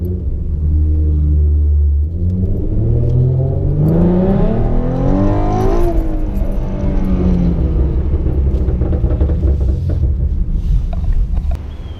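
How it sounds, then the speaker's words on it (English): A Ford Mustang fitted with an Airaid air intake makes a first gear pull, heard from inside the cabin with the windows up: a deep, loud engine rumble climbing in pitch for several seconds, then leveling off and fading slightly. "We're about to do another cabin test with the windows up. First gear pull."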